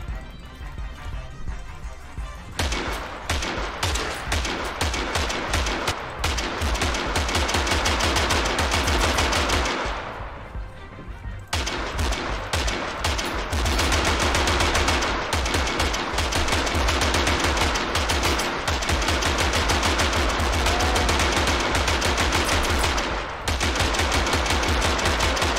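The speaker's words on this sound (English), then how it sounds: "Let's try that again with instead we have 3 Gatling guns." Rapid, sustained Gatling gun fire in a video game battle against giants, loud and continuous with a brief pause near the middle and another short break late on.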